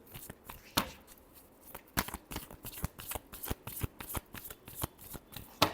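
A deck of tarot cards is shuffled close by, giving a rapid, uneven run of crisp riffles and slaps with no talking.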